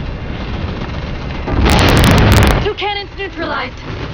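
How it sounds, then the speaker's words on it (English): A heavy explosion of cannons booms loudly for about a second amid Halo 4 game sound effects, followed by a voice speaking over the rumble. "Cannons neutralized."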